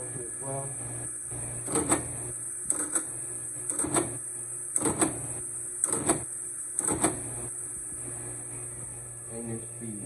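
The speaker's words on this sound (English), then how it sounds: "up for auction is an Astro envelope feeder" An Astro envelope feeder runs with a steady mechanical hum, broken by rhythmic feeding thumps about once per second, close by.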